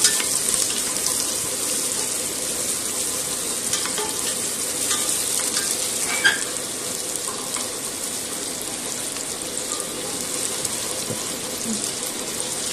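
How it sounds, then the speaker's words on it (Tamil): Sliced onions frying in oil for a chicken curry, giving a steady, close sizzle throughout with occasional light stirring clicks and no talking. "எண்ணெயில் வந்து வெங்காயம் நல்லா வணங்கணும்"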